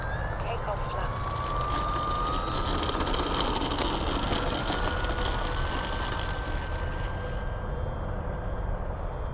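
An FMS Cessna 182 1.5 m electric RC airplane on a 4S 2200 battery takes off at a park on a cold morning, its motor giving a loud, steady whine that slowly shifts pitch as it climbs away, with a broad rushing noise underneath.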